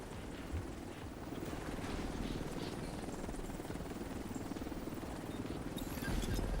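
A helicopter arrives for an extraction in a video game, its rotor a continuous, fairly quiet whirring drone that holds steady and swells slightly at the end, with no talking.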